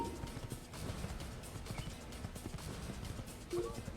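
Horse hooves clip-clop at a steady walking rhythm in Assassin's Creed (2007), with a brief whinny near the end, set against a busy game ambience of murmuring crowd noise.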